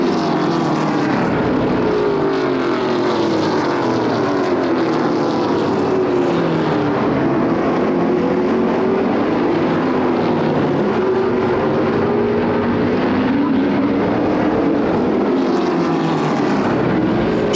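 Pro Late Model race cars at speed on the oval at Flamboro Speedway, a continuous loud engine drone rising and falling in pitch as the pack laps, with no talk over it.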